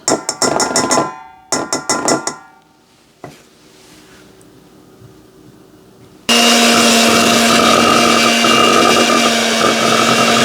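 Hershey's cocoa powder being beaten into chocolate cake batter with a mixer, starting with short bursts and pauses, then a loud, steady whirring run near the end.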